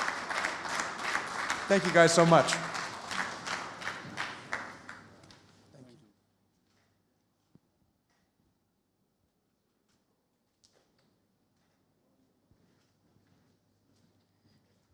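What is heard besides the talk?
conference audience applauding a panel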